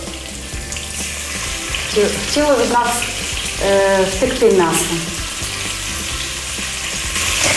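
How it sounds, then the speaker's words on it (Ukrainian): Pork ribs sizzle and crackle as they fry in browned, partly rendered pork fat, a steady close frying hiss with louder spattering bursts while people talk over it. "Коли сало підрумянилося, е, трошки стопилося, ми кладемо м'яско."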